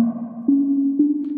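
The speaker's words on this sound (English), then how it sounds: "So now you hear back sine wave" A pure, steady synthesized sine tone from a modosc designs ID700 synthesizer holds a low pitch, with two brief clicks where it shifts slightly.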